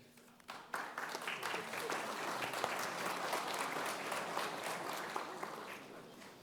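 An audience applauds as a speaker comes to the podium at an event honoring Cuban engineers: steady, full clapping from a large crowd that starts abruptly and holds for several seconds.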